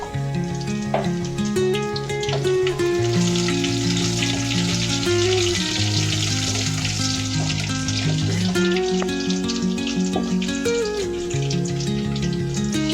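Mustard seeds, cumin, garlic and dried chillies sizzle and crackle steadily in hot oil for a tempering, loud and close, with no talking. A bright tonal melody plays underneath.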